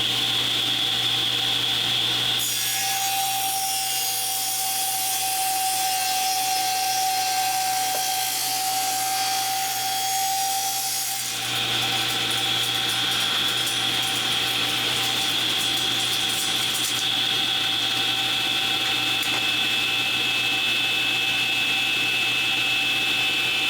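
A saw cuts skinny hardwood pieces guided against a fence, a steady loud broadband roar with a shift in tone partway through as the blade bites into and clears the wood.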